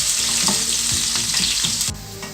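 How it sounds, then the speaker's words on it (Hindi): Onions sizzle and crackle steadily in hot oil in a pan, a loud continuous frying hiss with occasional stirring scrapes, no voices. "अब हम इसमें ऐड कर देंगे प्याज। तो गोल्डन ब्राउन होने तक वेट करेंगे।"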